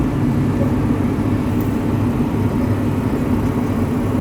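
A farm vehicle rolls through soft, sloppy mud while chopping silage, its engine a steady, loud mid-pitched drone from start to finish with no voices.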